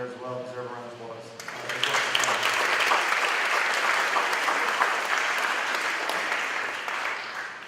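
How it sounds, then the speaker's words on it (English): After a moment of sustained tone, a graduation-season baccalaureate audience breaks into steady applause for parents and class members, a broad wash of clapping that holds for several seconds and tapers off. "the parents and other members of the class that were there as well deserve a round of applause"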